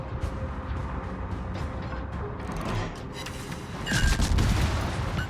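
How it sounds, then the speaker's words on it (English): A battleship fires HE shells in the naval combat game World of Warships, with rumbling salvos and booming gunfire that overlap and swell toward the end, heard without talk. "Putting some HE down on the Montana."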